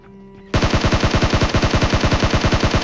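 Automatic gunfire in the PUBG video game, a sudden loud burst of rapid, evenly spaced shots that continues steadily after a quiet lead-in, with no talking.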